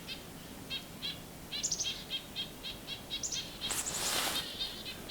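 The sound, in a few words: possible purple finch call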